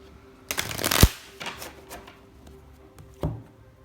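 Tarot deck riffled by hand: a crisp burst of card flutter building to a sharp snap, then a few softer taps and a final card slap, close and alone.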